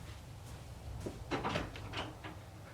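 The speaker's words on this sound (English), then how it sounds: "Let me get the door." A door opens indoors in a home: a short burst of creaking, rattling and latch sounds near the middle, close and moderately loud, over low room noise.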